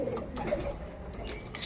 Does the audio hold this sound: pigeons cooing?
yes